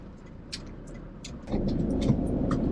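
Car driving slowly through a residential subdivision, a soft interior engine hum that swells louder partway through, with small clicks and rattles and no speech.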